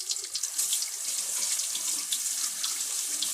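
Tap water runs steadily into a new kitchen sink during hand washing, a close, continuous hiss and splash without pauses.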